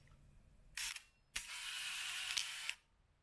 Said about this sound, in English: The shutter opens, it does the whirring sound